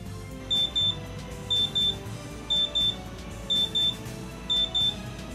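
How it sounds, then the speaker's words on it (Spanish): An FMX004 instrument sounds its automatic power-off signal: five pairs of sharp, high electronic beeps spaced evenly at about one-second intervals over a low steady hum. "la unidad apaga automáticamente dando 5 bips"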